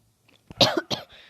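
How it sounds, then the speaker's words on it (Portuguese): A man coughs twice in quick, close bursts, then gives a short rasp, heard near and alone. "Desculpa pela tosse, hein"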